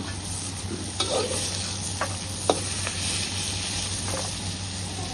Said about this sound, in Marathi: चला आता हे पण लसूण पण छानपैकी असं परतून झालं